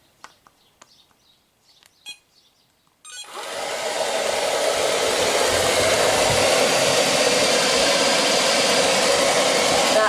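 An Ilife V3s robotic floor sweeper switches on after a few quiet seconds and runs steadily, a loud, even whirring hiss of its motor and brushes as it picks up crumbs, dust and fluff from a laminate floor.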